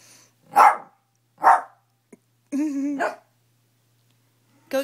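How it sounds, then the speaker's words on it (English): A dog barks four times in short, loud, separate bursts close by, with a higher whining yelp in the middle. "What's Haley barking about?"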